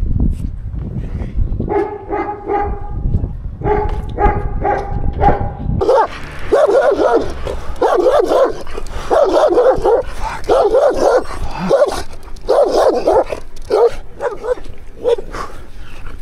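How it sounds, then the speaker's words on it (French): Several dogs barking repeatedly in bursts, some yelping, fairly close, at night in Bolivia on the road to Oruro, with a low rumbling of waiting trucks beneath the first few seconds. "Les chiens, les chiens."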